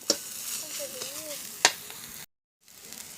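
Field rat meat is stir-fried in a pan for a spicy Thai dish, giving a steady soft sizzle with two sharp scrapes of the spatula, then a brief cut to silence before the frying resumes.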